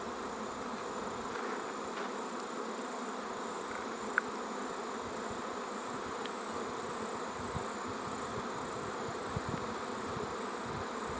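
Bees buzz around roadside beehives among leatherwood trees in Tasmania, a dense, continuous hum that stays even throughout, with a few faint clicks and no voices.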